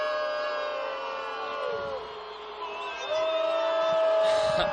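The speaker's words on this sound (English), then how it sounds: "you hear this Paradise crowd going nuts" A crowd at a high school football game between Enterprise and Paradise roars, with whistles and booing-like swells rising steadily in the distance beneath a commentator's voice.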